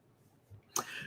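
A single short sneeze bursts out sharply after a quiet breath, close and fairly loud.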